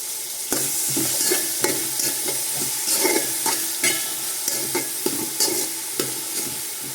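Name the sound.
onions cooking with salt in pan for mutton biryani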